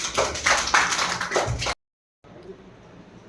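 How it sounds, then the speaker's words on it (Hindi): A short burst of fast, close hand clapping from a small group of primary school students, ending abruptly, followed by quiet background noise. "समीर के लिए तालियां।"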